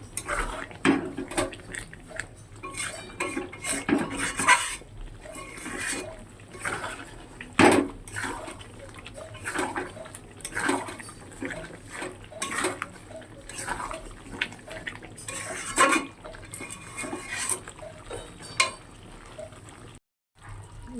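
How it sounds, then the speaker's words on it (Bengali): Milk chicken being stirred in a cooking pot, giving a run of close scraping and clinking knocks with soft liquid sloshing, irregular and steady throughout, with no talk. "এবার একটু নাড়িয়ে চাড়িয়ে নিয়ে তারপরে কিছুক্ষণ পরে নামিয়ে নেব"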